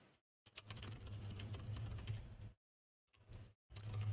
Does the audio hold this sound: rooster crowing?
no